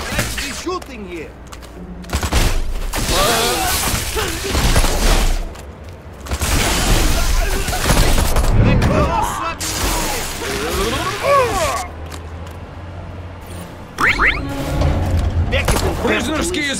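Gunfire in the video game Destroy All Humans! 2: Reprobed on PC, sustained loud bursts of shooting and explosive pops, with brief pauses between volleys, mixed with game voices shouting over the action.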